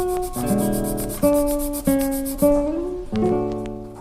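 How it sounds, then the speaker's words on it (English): Wooden push rods for an antique roller organ are sanded by hand in steady back-and-forth strokes, a close, loud rhythmic rasping with no talk. "I'm going to sand them up a little and round those edges out so they'll clip in easier"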